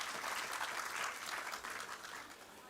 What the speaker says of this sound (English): So I think you should all give yourselves a round of applause now.